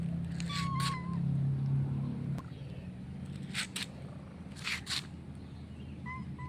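A cat meows several times along a rural morning walking path, short rising calls spread across the clip over steady low background noise.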